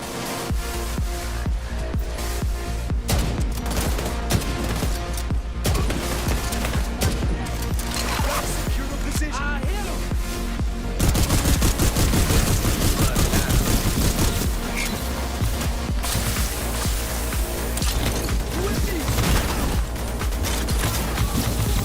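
Dense, sustained gunfire rattles through a firefight in The Division 2, loud bursts of automatic weapons and impacts overlapping almost continuously, with occasional game radio chatter underneath.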